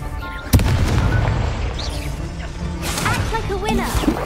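Confringo fire spell explosion in the Hogwarts Legacy video game on Xbox Series X: a sharp boom bursts out near the start, followed by rumbling combat noise and whooshing effects that continue to the end.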